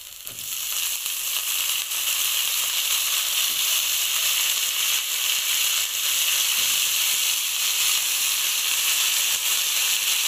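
Cauliflower and potato hitting a hot pan, giving a loud, steady, hissing sizzle that holds evenly throughout with no voices over it.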